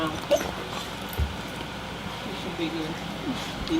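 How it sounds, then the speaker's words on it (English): A dog yips and whimpers in brief bursts, close by, mixed in with people talking and general room noise. "What's with the barking?"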